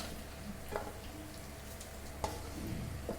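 Pieces of a large fish frying in oil in a pan for fish curry, with a steady broadband sizzle throughout and a couple of sharp spits or stirring clatters, close and continuous, with no talking.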